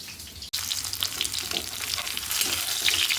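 Small shallots, garlic and ginger fry in a pan, a steady, moderately loud sizzle with stirring, broken only by a brief dropout near the start.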